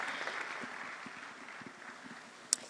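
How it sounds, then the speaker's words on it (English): Applause from an audience at a radio-hosted event, a soft, steady wash of clapping that stays moderately quiet throughout, with one sharp bright click near the end. "Another round of applause for her."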